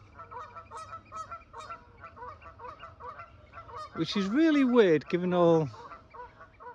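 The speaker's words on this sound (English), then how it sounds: "I think they're complaining we've run out of water," Someone talks briefly while geese keep honking nearby at a Yorkshire Dales reservoir, with a couple of loud, close honks rising clearly above the rest.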